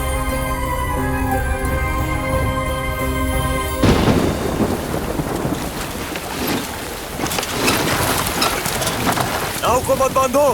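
Storm scene with heavy rain and thunder by a rising river where a boat waits, following music that cuts off; dense, loud rain noise with rumbling thunder throughout.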